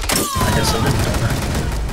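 Gunfire in the video game Rainbow Six Siege during a team deathmatch bomb round: dense, loud bursts with booming thuds and mechanical clatter, running continuously with players' voices talking over it.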